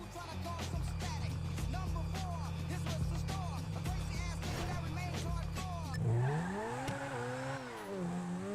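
A V12 car engine in GTA Online is held at full throttle with a sustained, droning roar, then the revs sweep up and down in a wavering climb near the end.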